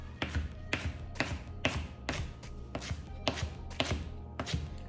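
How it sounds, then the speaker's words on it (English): A knife chops fresh dill on a cutting board: about nine evenly spaced, crisp thuds, close and clear, with no voices. "I'm gonna chop all of this dill up"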